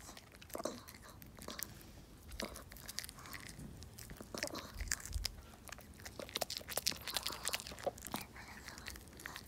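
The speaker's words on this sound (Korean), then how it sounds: "지롱이 상추가 맛있어?" A pet crunches and chews fresh lettuce leaves close up, with repeated small bites and moist munching in an irregular run.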